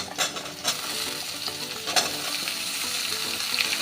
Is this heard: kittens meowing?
no